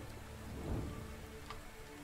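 Steady rain falls in the medieval survival game Medieval Dynasty, a faint, even wash of drops pattering on surfaces with a slight swell midway and no voices.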